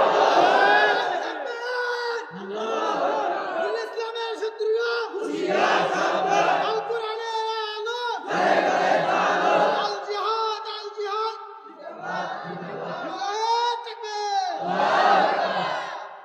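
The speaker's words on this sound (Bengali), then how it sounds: "আল্লাহকে জোরে তাকবীর দিয়ে দেখায় দাও।" A large religious gathering shouts takbir, chanting "Allahu Akbar" in loud, repeated massed cries, each wave of many voices rising and falling in a steady call-and-response rhythm.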